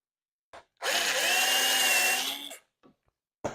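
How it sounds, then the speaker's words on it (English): A power drill fitted with a 1/4 inch bit bores a hole in a spare-tire subwoofer box being built for a Honda CR-V. A single loud, close, steady whine lasts under two seconds and then winds down, with no other sound. "going to take a 1/4 inch drill bit and drill a hole right in this area here"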